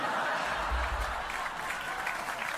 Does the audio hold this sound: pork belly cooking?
no